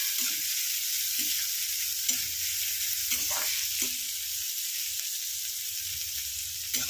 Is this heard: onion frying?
yes